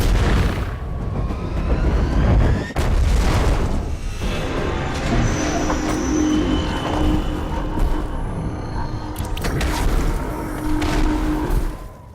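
Lady Solaria, an Imperial Knight super-unit mech of the Space Marines, unleashes a Gatling barrage from her arm-mounted guns in Warhammer 40,000: Dawn of War III, a loud sustained roar of rapid fire and heavy booming impacts.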